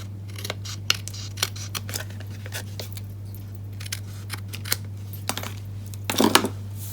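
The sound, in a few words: cutting paper card edges with scissors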